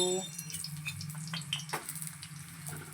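Bread fries in a pan with a soft steady sizzle and a few light scrapes and clinks, close by and heard alone.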